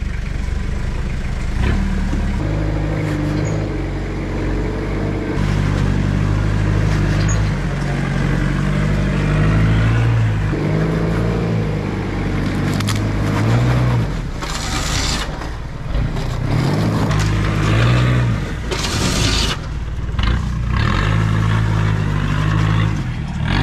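A Toyota Hilux on mud tyres revs hard while stuck in mud, its engine droning loud and steady with repeated rising and falling surges over the full length.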